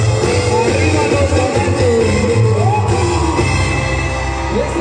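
A concert crowd at a show in Puebla shouting and cheering, a loud, dense roar of many voices with rising whoops and yells over steady music.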